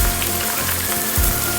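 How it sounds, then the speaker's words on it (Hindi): Steady, dense sizzle of chicken frying in oil inside a pressure cooker for biryani, with spattering crackle that continues without pause. "अब हम चिकन डालकर फ्राई कर रहे हैं"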